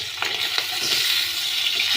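Hilsa fish frying in hot oil in a pan, a steady close sizzle with faint stirring scrapes throughout.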